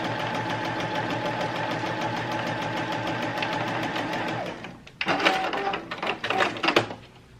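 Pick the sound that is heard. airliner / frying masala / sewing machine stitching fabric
sewing machine stitching fabric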